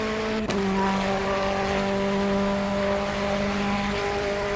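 A race car engine in a Le Mans endurance racing video game holds a loud, steady droning pitch, with a sharp transient near the start and a faint tire squeal. It runs nearly unchanged for several seconds, with no talking.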